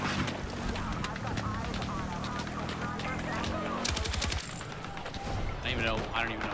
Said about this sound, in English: I'm a huge fan of how good the fucking HMG is. Oh, that 50 cal is so fucking cool.